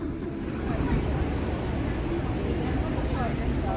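Ocean waves at the rocky coast of Cascais, Portugal, a continuous broad wash of surf with wind buffeting the microphone, with no clear voices.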